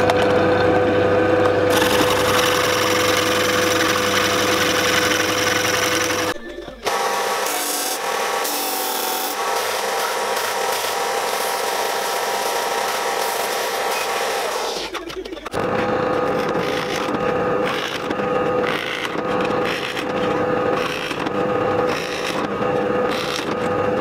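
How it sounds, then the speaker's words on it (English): Loud, continuous machine whine as a drill press bit grinds into pallet wood, with rasping and splintering textures, pausing briefly before drilling resumes. "I need the drill press for that."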